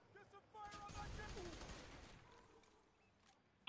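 Pump shotgun fire in F.E.A.R. 3 comes as a quick burst of loud, rough shots that die into a faint rumbling tail, with a quiet voice speaking just before.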